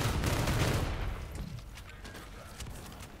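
Machine gun fire from the video game Halo Infinite starts as a loud, dense burst, then fades to scattered, fainter shots further off.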